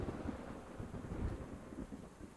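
Rain falls and thunder rolls in the video game Unexplored 2, a low rumbling storm under a constant soft wash of rain, fairly quiet and distant.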